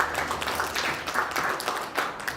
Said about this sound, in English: Can we again give them a round of applause?